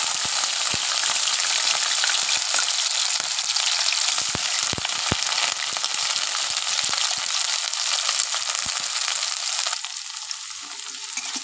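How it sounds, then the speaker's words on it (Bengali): Chopped beans hiss and sizzle loudly in hot oil, a dense, continuous frying sound broken by scattered sharp crackles, easing slightly toward the end. No voices. "তেল গরম হয়ে গেছে, এবারে কেটে রাখা বিনসগুলি দিয়ে দেব।"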